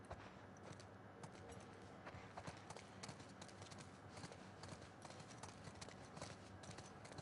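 Hooves clip-clop at a steady walking rhythm in The Last of Us Part II Remastered, a continuous even clatter of horse steps at moderate distance over faint ambient background.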